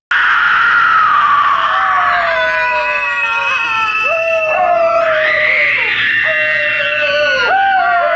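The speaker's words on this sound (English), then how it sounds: "Sally is screaming, the family is screaming, it's just one big insane nightmare." Several people scream and wail together in The Texas Chain Saw Massacre, loud and close, with overlapping high, wavering shrieks and howls that run continuously for about eight seconds.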